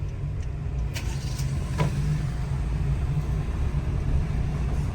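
A right-hand-drive car driving through the back streets of Gazimağusa, Cyprus, changing lanes, gives a steady low engine and road rumble from inside the cabin, with a few faint clicks and no talking.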